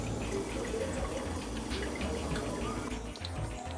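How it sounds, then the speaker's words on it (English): Tap water pours steadily into a pot holding chicken bones for parboiling before making broth, a continuous, fairly close rushing fill that cuts off just before the end. "And then I'm gonna fill it with water, just normal water"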